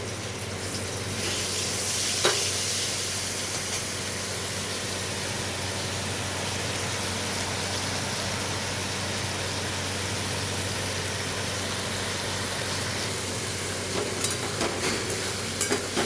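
Water spinach (kolmi greens) frying in a pan over high gas, giving a steady, even sizzle throughout with a few faint clinks of stirring near the start and end.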